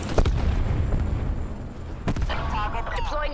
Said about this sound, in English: Enemies getting shots off.